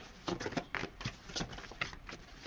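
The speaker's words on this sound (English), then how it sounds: "These cards feel very slippery, very soft, very easy to shuffle right now." A deck of tarot cards being shuffled by hand, soft riffling bursts in an irregular rhythm, close and moderately quiet, with no voice over them.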